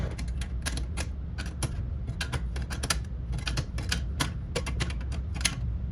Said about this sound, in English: take your wrench and retighten the lock ring behind the machine